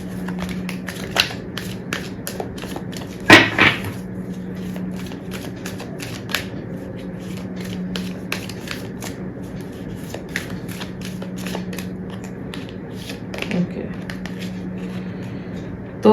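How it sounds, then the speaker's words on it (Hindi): Tarot cards being shuffled by hand, soft repeated riffling and tapping with a couple of sharper slaps, heard close and under steady talking. "जब तक मैं कार्ड शफल कर रही हूँ"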